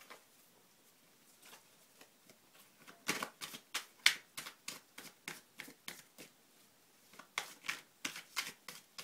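A deck of oracle cards shuffled by hand for a reading, giving quick papery riffling taps in uneven bursts, soft and close, with no talking.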